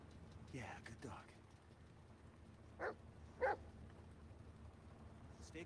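A dog named Bullet gives a few short, sharp barks and yips in the Blair Witch video game, spaced apart and fairly quiet over a low ambient background.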